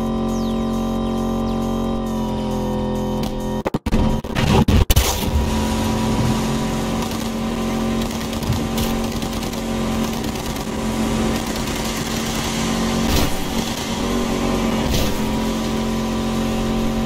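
A car in Cyberpunk 2077 races along with a loud, steady engine drone and high-pitched whine, with a brief crash of impacts early on before the engine keeps roaring.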